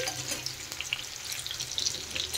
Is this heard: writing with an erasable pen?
no